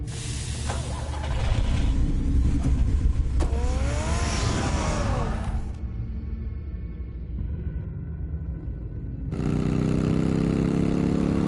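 Batman's car engine in the Batman video game rumbles steadily and rises into a revving surge, then drops to a lower hum before the loud engine roar returns.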